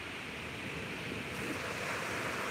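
Ocean surf rolling onto a beach under an overcast sky, a steady continuous wash of waves with wind noise, fairly loud and close, no voices.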